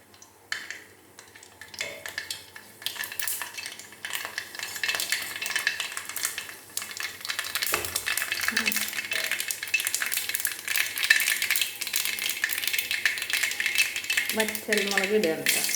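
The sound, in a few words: mustard seeds spluttering in hot coconut oil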